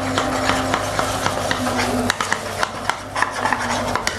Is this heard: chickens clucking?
no